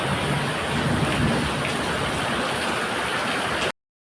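Heavy rain pours down steadily and loudly, a dense continuous wash of drops up close with no voices, then cuts off abruptly near the end.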